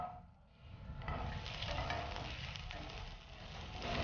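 Dried red chilies and small shallots sizzle in hot oil in a pan, a steady close frying crackle with stirring scrapes, rising after a brief dip near the start, with no voices.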